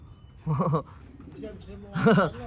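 Racing pigeons give two clear bursts of cooing close by, a gentle throaty warble, with quieter bird sounds in between.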